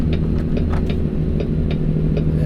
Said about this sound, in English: That sound you hear is the retarder.